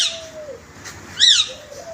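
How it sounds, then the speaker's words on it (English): Doves at a bird collection give soft coos and chirps, close by, with one louder call near the middle of a short stretch. "Doves. Message for peace. Doves for peace."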